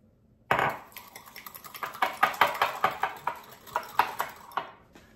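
Lightly beaten large eggs being whisked in a bowl for autumn cookie dough, a close run of quick rhythmic clinks of a fork or whisk against the bowl, speeding up and then trailing off.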